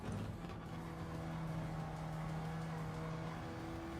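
A hybrid electric racing car engine in Gran Turismo 7 hums and whines steadily with a faint electric tone, holding a smooth sustained pitch throughout.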